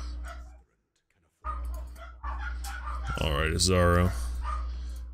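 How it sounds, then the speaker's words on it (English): Dogs in the video game Path of Exile bark and yip in a short burst near the end, over a steady low game hum and a brief silent gap, with someone speaking over them. "There go the dogs again."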